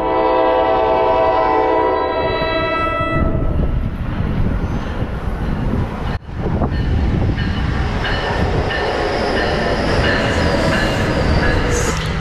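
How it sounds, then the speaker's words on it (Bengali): A double-decker local commuter train from New York City passes close by, opening with a long sustained horn blast, then loud rolling wheels and rumbling cars that fill the rest of the clip. "এটা হচ্ছে local train, new York city থেকে এলো।"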